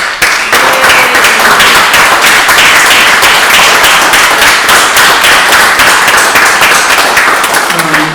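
A conference audience gives a curator a loud, continuous round of applause at a closing session. The clapping is dense and unbroken, with a few faint voices showing through the noise.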